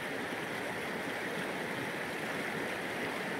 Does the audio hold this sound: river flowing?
yes